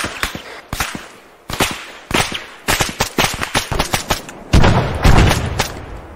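Rapid bursts of automatic gunfire and single shots crack in a military shooter game, Arma 3, coming in uneven clusters, loud and close, with a heavier sustained volley near the end.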